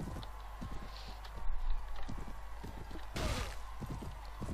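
Horse hooves in Mount & Blade Warband during a tournament fight, rapid clip-clop beats under game noise, with a sharp impact burst midway.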